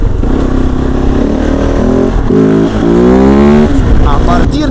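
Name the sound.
Kove 450 Rally motorcycle engine revving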